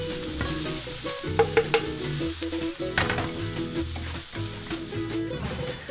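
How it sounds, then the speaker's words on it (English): Onions browning in olive oil in a pan, a continuous close sizzle with intermittent scraping and stirring clatter and a few sharp utensil knocks, no speech. "now we're just gonna brown some onions in a pan with a bit of olive oil"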